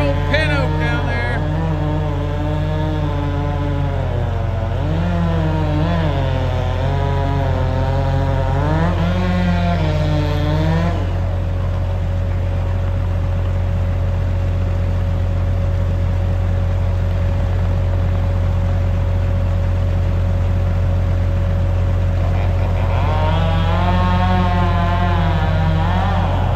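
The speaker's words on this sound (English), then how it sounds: "Whacking a big old pin oak down there." A chainsaw working on a big pin oak at a logging site, droning loud and continuous with its pitch rising and falling as it bogs and revs, settling into a steady idle before revving up again near the end.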